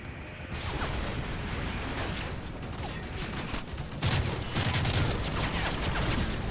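Gunfire in the Modern Warfare 3 video game rattles through a dense battle mix, with bursts of shots and heavier impacts growing louder after a few seconds.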